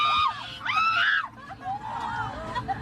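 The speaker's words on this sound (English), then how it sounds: "it was just this woman screaming" A woman screams repeatedly aboard a plane with pigeons flying around the cabin, shrill rising and falling shrieks over a murmuring crowd in a recorded clip.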